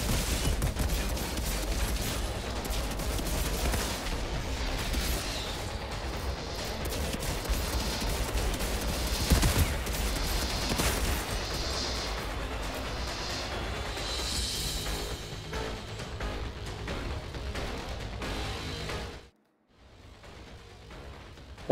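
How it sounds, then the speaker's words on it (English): Rapid automated shotgun fire in the video game Outriders during a Worldslayer boss fight, dense volleys of blasts running steadily for most of the stretch before cutting out abruptly near the end. "I hope I get another automated shotgun like that"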